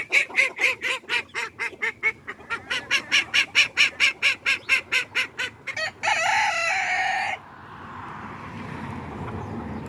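Farmyard geese and a rooster being gathered in ahead of a storm, with a loud rapid run of rhythmic honking and crowing calls close by, then a harsh drawn-out call and a quieter background hush.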